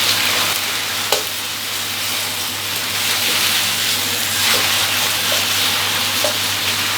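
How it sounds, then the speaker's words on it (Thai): Loud continuous sizzling from hot oil in a wok as wide rice noodles are stir-fried, with occasional scraping clicks of a utensil stirring, close up. "ผัดแค่ให้เส้น โดนกับกระทะน้ำมันร้อนๆครับ"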